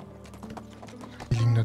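Horses in the medieval village game Medieval Dynasty clip-clop in a soft, irregular patter of hoof knocks, followed by a sudden loud low hum from the game near the end.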